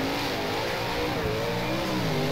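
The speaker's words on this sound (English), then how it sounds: "Just hear it getting into the limiter." A 410 sprint car engine in the rFactor racing game, at Silver Dollar Speedway, screams at high revs without letup, bouncing against its rev limiter with a buzzy, wavering whine.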